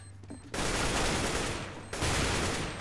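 Rapid gunfire in the video game CS:GO comes in two dense, loud bursts, one starting about half a second in and a second shortly after, each a sustained rattle of shots.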